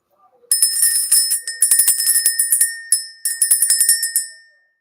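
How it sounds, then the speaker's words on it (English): A small metal bell is rung in repeated bursts of rapid bright tinkling strikes, separated by short pauses, each ring decaying into a sustained shimmer, close and alone. "Let's go ahead and ring the bell."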